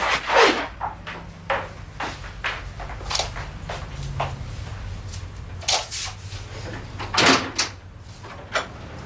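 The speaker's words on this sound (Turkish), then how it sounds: "Kapı çalınıyor." Knocks on a house door come as several sharp, fairly close raps spread irregularly over a quiet indoor background.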